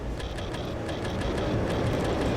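A subway train in a nearly empty New York City station from the game Hybrid Heaven, a steady loud rumble with faint rhythmic clatter running throughout.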